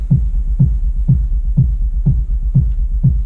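Pitched-down techno rumble kick, sampled on an SP1200-style setup and played through a subwoofer, thumping seven times in a steady four-on-the-floor pulse with deep booming low end and a short decaying tail, loud and alone.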